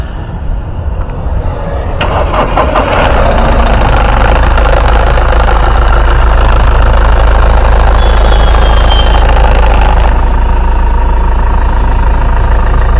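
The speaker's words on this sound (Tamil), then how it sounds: "வாங்க வண்டியோட இன்ஜின் சவுண்ட் எப்படி இருக்கு அப்படின்றத கேட்போம்" A vehicle engine idles loudly and steadily up close, a constant low rumble with a faint knocking texture.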